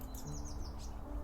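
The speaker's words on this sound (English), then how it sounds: "Can you hear the birds chirping?" Birds chirp in a video game's outdoor scene, with several quick high tweets and trills scattered over a soft, steady ambient background.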